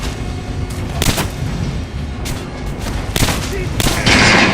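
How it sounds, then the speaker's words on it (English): Gunshots fired at a training dummy in the video game Metro Last Light, several sharp loud reports spaced irregularly amid game ambience, with a burst of noisy hiss near the end. "Try shooting with the center of the regular dummy's chest."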